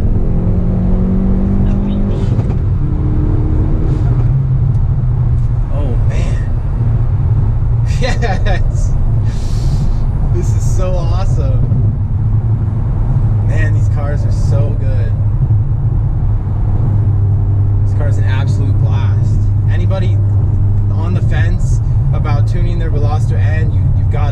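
An ECU-tuned Hyundai Veloster N accelerates hard in third gear from about 5,000 rpm, a loud steady engine drone and road rumble heard from inside the cabin, with someone talking over it.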